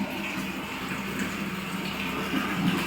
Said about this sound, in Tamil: போரில் தண்ணி வந்துட்டுருக்கு.